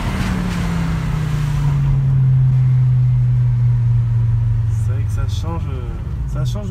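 Five-cylinder engine of a Volvo V70R droning from inside the cabin, its pitch sliding slowly downward as it settles, with a person speaking briefly over the engine toward the end.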